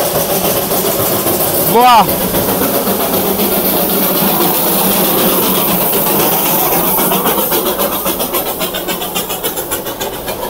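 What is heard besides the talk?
Darjeeling train passing at Batasia Loop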